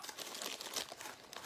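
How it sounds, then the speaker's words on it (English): A generic plastic bag holding cookies crinkles in close, irregular bursts of bright crackling rustles, fairly loud and alone with no talking. "It's in a generic, typical plastic bag."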